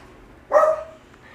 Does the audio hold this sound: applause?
no